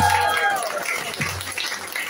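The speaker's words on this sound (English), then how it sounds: "we're going to give a massive Liverpool round of applause for Josh" Crowd at a Liverpool pub club clapping and cheering for a performer, a dense burst of applause that fades slightly, with chatter and voices mixed in.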